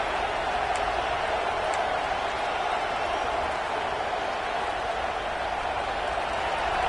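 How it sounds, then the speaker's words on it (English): Football stadium crowd cheering during a game, a broad continuous roar of many voices, steady and loud without breaks for the whole stretch. "Listen to the crowd energy here in the early going."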